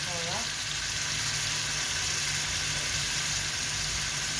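Tomatoes hit a pan of browned onions and minced meat and sizzle loudly, a steady close frying hiss with a brief voice at the start.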